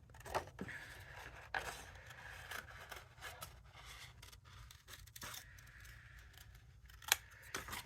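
Scissors snip through a die-cut paper shape coated with metallic pencil, giving a run of faint, close cuts and slides spread over several seconds, with a couple of sharper snips near the end.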